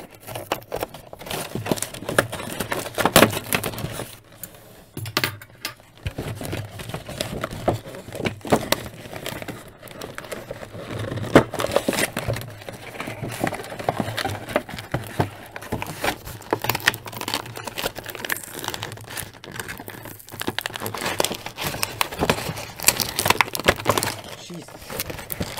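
Tape being cut and pulled off a Transformers Megatron toy box, with scattered crinkling, scraping and rustling of cardboard and plastic, fairly close but quiet and irregular.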